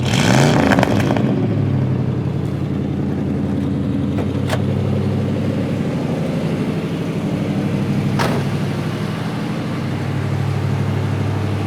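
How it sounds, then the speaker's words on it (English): A 1979 Chevy Camaro Z28 engine idles with a deep, throaty rumble through a dual exhaust, loud and close, holding steady after a brief rev at the start. "Nice sounding dual exhaust."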